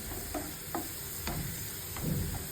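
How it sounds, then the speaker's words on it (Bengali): Dry red chilies frying in hot oil, with panch phoron spices added, for a thin deshi chicken khichuri; a soft steady sizzle with several brief stirring scrapes and crackles, close and moderately quiet, no voices. "শুকনো মরিচটা একটু হয়ে গেলে দিয়ে দেবো পাঁচফোড়ন"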